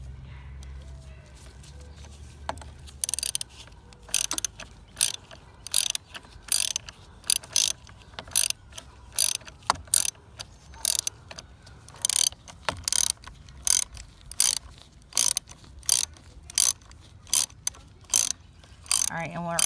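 Sharp ratchet clicks while tightening a battery terminal on a 2021 Hyundai Elantra SEL, coming in quick irregular runs of close metallic ticks with short pauses between them.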